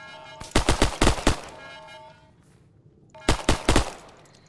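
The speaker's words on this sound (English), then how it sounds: "I'm taking machine gun fire." Machine gun fire in the video game Arma 3 comes in two short bursts of rapid loud shots about three seconds apart, each burst a quick run of sharp cracks with a brief quiet gap between.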